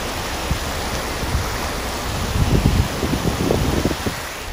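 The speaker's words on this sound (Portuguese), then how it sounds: "Desce aqui, desce muita água." Floodwater rushes down Avenida Ático Vilas Boas da Mota in Macaúbas, Bahia, during heavy rain: a steady, close, broadband roar of churning water with surges of splashing turbulence and no talk.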